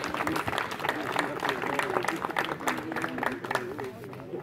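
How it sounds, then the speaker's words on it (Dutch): An audience at a Flemish shooting-guild king contest applauds indoors with steady, mid-loud clapping while someone speaks over it throughout. "Ik vraag een hartelijk applaus aan met elkaar."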